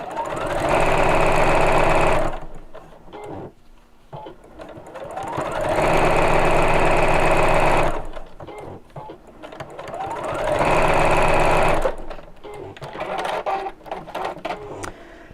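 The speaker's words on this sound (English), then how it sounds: "we're just going to sew down this side of the zip" A sewing machine sews down the side of a zip on a stretch-fabric pouch in three steady bursts of fast, even stitching, loud and close, with short pauses and faint handling noise between runs.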